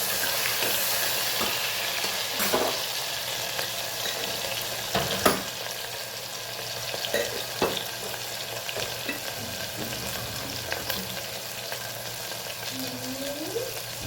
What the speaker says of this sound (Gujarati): રાઈ થઈ એટલે સહેજ જીરું એડ કરીશું. સહેજ હિંગ એડ કરવું અને